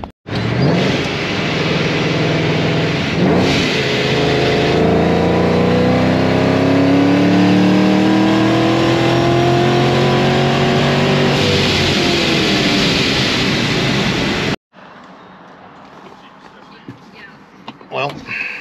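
A ProCharged 4.6L Aluminator engine in an F1-supercharged car revving hard under acceleration, loud and close for about fourteen seconds through rising gears, then cutting off abruptly to a quiet background.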